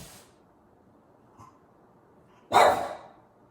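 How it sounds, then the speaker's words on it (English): One sharp, loud bark from a pet dog in a home, alone after a quiet stretch with a faint brief sound just before. "my dog is attacking something invisible"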